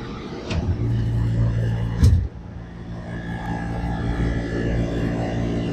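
The extraction pump of a Rosemount paramagnetic analyzer runs with a steady low mechanical hum and drone, close and constant, with a couple of brief clunks early on.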